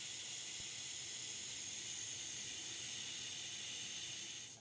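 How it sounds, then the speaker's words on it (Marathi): Steady steam hiss from a pressure cooker on a gas flame, cooking dal-rice, a continuous loud rush that holds evenly and cuts off at the end. "आता कुकरच्या 3 शिट्ट्या होऊ द्यायच्या आहेत"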